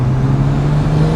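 An R33 Nissan Skyline's turbocharged RB25DET engine idles with a steady low drone and a constant hum, heard up close with no breaks or talking.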